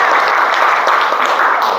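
Classroom of students claps together in a dense, loud burst, a steady wash of hand claps lasting under two seconds.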